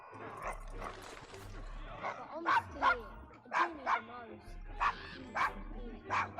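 Dog barking in Assassin's Creed Syndicate, a series of sharp, fairly close barks and yips in an uneven rhythm, repeating through the whole stretch while a person talks over them.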